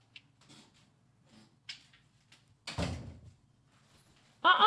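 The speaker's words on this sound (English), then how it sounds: "Close the door." Car door shutting, one sharp close thunk after a few faint rustles and small clicks in a quiet interior, with another short knock at the end.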